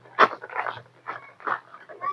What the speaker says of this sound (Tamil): அது என்ன நம்ம பின்னாடியே தெரியுது நாய்.